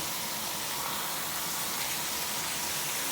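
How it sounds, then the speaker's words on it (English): A pork steak with basil and garlic sears in a pan, giving a steady, even hiss with no breaks, close and moderately quiet. "So I'm just searing this pork steak up here, guys, with a little basil and a little garlic"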